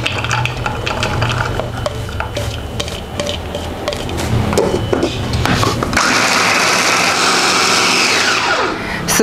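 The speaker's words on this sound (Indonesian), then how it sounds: "Sekarang kita mau chop ebi." Mitoshiba CH100 electric chopper grinding dried shrimp, a loud close motor whir with rattling, clattering pieces inside the bowl, the tone shifting and smoothing out partway through as the shrimp breaks down.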